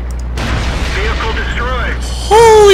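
Tank cannon fire and shell impacts from the World of Tanks video game, with a low muffled boom and mechanical clatter under a voice, then a louder blast near the end.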